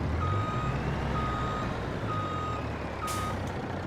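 Semi truck in Farming Simulator 22 reversing, its backup alarm sounding a steady series of evenly spaced beeps over a low engine rumble, with a short hiss of air near the end.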